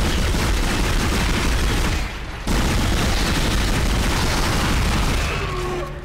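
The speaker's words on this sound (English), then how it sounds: "I think it's time to get the pulse rifle out." Loud, dense sci-fi gunfire from the pulse rifle in Dead Space, a rapid continuous stream of automatic shots with booming impacts, briefly cutting out for a moment before resuming at full intensity.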